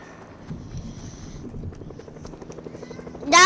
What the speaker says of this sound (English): I'm healing the chopper with the light here.